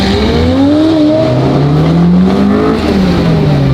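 A Honda Type R with a full spoon build revs hard while driving, its loud engine note rising and falling steadily and filling the whole stretch up close.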